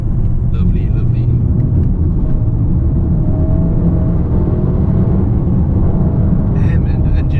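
A 2019 Mercedes-Benz A250 drones with a steady, loud, low engine and road rumble from inside the cabin, a faint rising whine appearing midway, while someone speaks briefly at the start and end.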